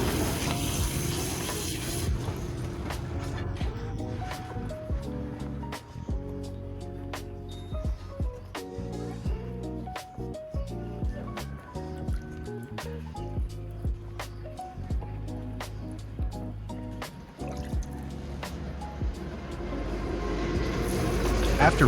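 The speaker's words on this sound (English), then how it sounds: "Focus on washing away small particles stuck between roots." Low-pressure water rinsing over orchid roots, a continuous close splashing and trickling with irregular drips and squishy handling noises running throughout, louder at the start and end.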